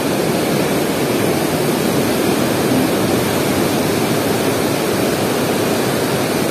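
Water pouring and dripping off rocks at Wawa Dam, a loud, dense, unbroken rushing wash heard close, with no voices over it.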